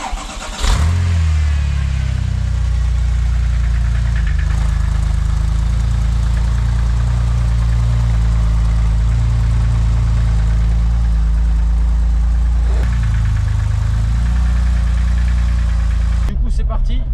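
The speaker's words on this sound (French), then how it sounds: "Porsche 911 Turbo type 996" A Porsche 911 Turbo, type 996, idles loudly and steadily up close with a deep, rumbling low drone, a brief rev or start at the beginning and another surge near the end.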